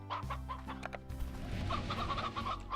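Hens cluck softly and steadily in a Slime Rancher farm pen, a continuous low fowl chatter with no talk.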